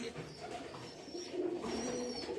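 Kalasabuj Giribaz pigeons, a nesting pair sitting on eggs in a loft, give soft low cooing that swells mid-clip, close and fairly quiet over faint background rustle.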